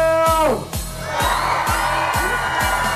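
At the Courage Festival 2015, a festival crowd whoops and yells in a loud, lively wash of noise over a thumping DJ set with a steady pounding bass beat.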